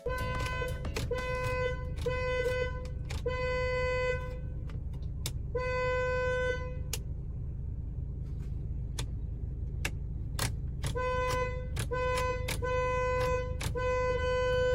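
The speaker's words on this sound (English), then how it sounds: "the car honks by itself every time they turn the headlights on" A car horn honking by itself in short repeated toots, some single and some in quick clusters, loud and close over a steady low engine rumble, with no voices.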